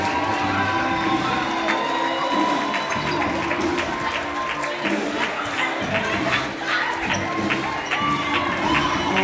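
School gym crowd at a high school volleyball match cheers and shouts as the varsity girls' team enters the court, continuous loud roar with scattered claps and shrill voices.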